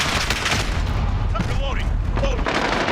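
Heavy booms and gunfire rumble from an enemy precision airstrike in a shooter video game, dense overlapping blasts with a voice talking over them.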